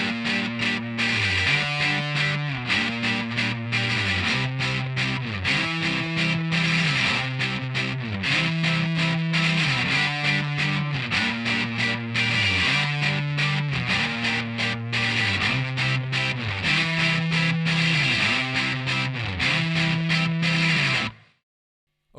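Distorted electric guitar plays the bridge section A of a song, a loud, steady riff with a repeating stepped pattern over about twenty seconds before cutting off abruptly.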